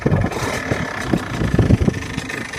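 An Aprilia RS4 50 motorcycle bored out to 80 cc, with a big exhaust and a 28 mm carburettor, runs close by after starting. Its engine drones steadily with uneven, rough pulses and no talk.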